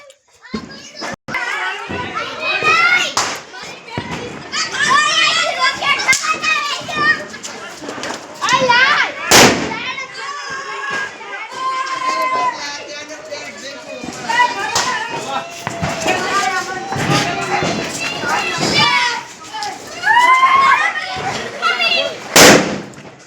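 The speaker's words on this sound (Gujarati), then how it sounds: "આ દિવાળીનો માહોલ પણ ઉતરી પડ્યો છે ફટાકડાની બગડાટી બોલાવી દીધી છે" Diwali firecrackers burst in a string of sharp, loud bangs and crackles spread across the scene, amid the constant chatter and shouts of children playing nearby.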